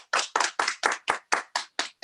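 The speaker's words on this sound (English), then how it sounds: "Thanks for the applause" Clapping from a virtual sales awards event: nine distinct, evenly spaced hand claps, close and crisp, with silence between each.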